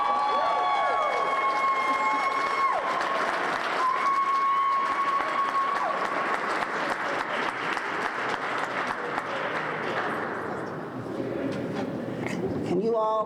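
A crowd applauds and cheers at an outdoor Black History Month flag raising and celebration, with dense, sustained clapping, a few whoops, and a pigeon cooing, before the clapping fades out near the end.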